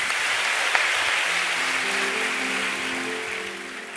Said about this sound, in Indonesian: Kita boleh berikan tepuk tangan buat Tuhan.